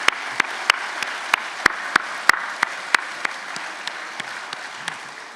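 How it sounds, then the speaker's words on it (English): Audience applause at a university convocation ceremony, sparse and fairly quiet, with distinct individual claps standing out at irregular intervals over a soft background of clapping for about five seconds. "Let's give them a well-deserved round of applause."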